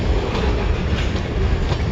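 CN mixed freight train with two engines departing eastbound, a steady loud rumble of rolling cars passing close by with no speech.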